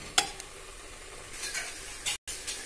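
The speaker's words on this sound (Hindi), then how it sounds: "खोया डालने के बाद इसको हमने अच्छी तरह से मिक्स करना है और फिर से इसको पकाना है।" Khoya being mixed into carrot halwa in a pan, with quiet scraping stir strokes, a couple of sharp spoon taps and a faint sizzle underneath, near and fairly soft.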